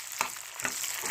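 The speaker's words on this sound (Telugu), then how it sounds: "నిదానంగా వేయిస్తున్నాను" Food frying slowly in a very old iron pan, 30 to 40 years in use, giving a steady close sizzle with a few brief bursts of stirring.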